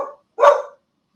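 A dog gives two short barks, a faint one followed by a louder, sharper one close by, then silence.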